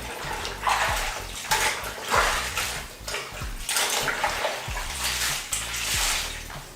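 Items swished and rinsed in a basin of water, with repeated sloshing surges and splashes in a steady rhythm, close and fairly loud.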